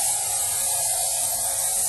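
A spray tan gun lets out a steady, close hiss of mist for about two seconds, unbroken and even, with no talking.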